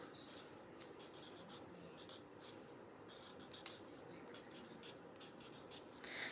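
A marker scratches and rubs over existing handwriting on paper in short, faint strokes close by, with soft speech underneath.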